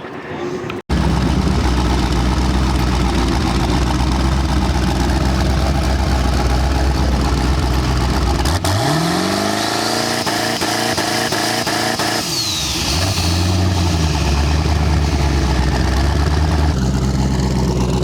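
A twin-turbo Mazda RX-7 rotary engine idles loudly, then crackles and pops in a rapid stuttering burst on two-step launch control while held at high revs, with short rev rises between, at a track.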